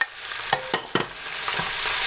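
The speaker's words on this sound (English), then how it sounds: "Stir them in so they soak it in and get that flavor." Beef and mushroom mixture is stirred into stroganoff sauce in a pan, giving soft, close scraping strokes and a few light clicks over a faint, quiet simmer.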